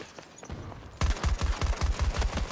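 Rapid bursts of gunfire and explosions from the video game Battlefield 6; after a quieter second, loud close shots repeat in a steady rhythm, with no talking.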